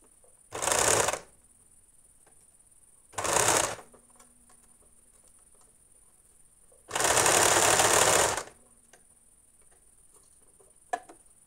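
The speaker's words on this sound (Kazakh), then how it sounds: "мынаны зигзагқа қойып тігіп жатырмын" A sewing machine stitches zigzag ruffles on an evening dress in three separate runs, two short and one longer, each loud and whirring against a quiet room.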